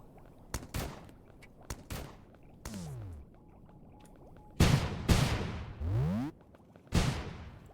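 Sticky bombs explode in the video game Starbound in a string of sharp blasts, several of them trailing off in falling, whooshing tails, spaced irregularly with quieter gaps between.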